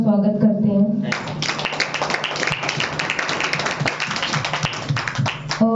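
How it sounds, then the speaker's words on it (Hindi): An audience at a new year celebration applauds to welcome God's servants, a dense, steady clapping that starts suddenly after a voice and continues for several seconds. "तालियों से परमेश्वर के दास और दासी का स्वागत करते हैं"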